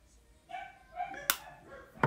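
Dogs give a few short barks and yips at a passing car, moderately near, separated by brief pauses, with sharp knocks in between.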